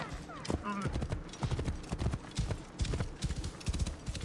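A horse gallops in the Assassin's Creed Origins video game, rapid rhythmic hoof clip-clops continuing throughout with a brief whinny, while a person talks over it.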